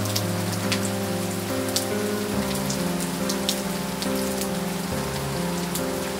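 Heavy rain pours in a dense, steady hiss with close drops spattering on surfaces, while a soft sustained musical drone plays underneath throughout.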